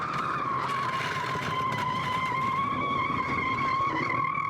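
A car skids with a sustained tyre squeal after a simulated blowout of an underinflated tyre during a 60 mph turn-in, steady and loud throughout with road noise underneath and no speech.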